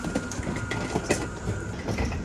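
Electric commuter train in Poland rolling past close by, a steady broadband rumble with rhythmic wheel clatter and a faint high whine, heard alone without talk.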